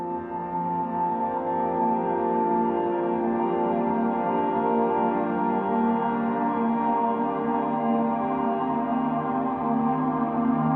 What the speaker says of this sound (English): Here's some of that granular synthesis I was talking about.